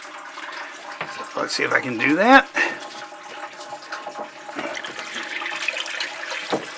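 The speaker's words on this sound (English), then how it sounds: "I'm just going to let that water drain into the bilge" Water drains from a sailboat's water tank through an open valve into the bilge, a gurgling, rushing flow that swells and then settles into a steady trickle while someone talks over it.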